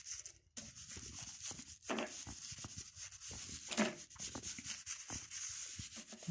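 A sponge rubs and dabs paint onto paper for a sky, giving soft scratchy strokes with short dabs in an irregular rhythm, close up and faint.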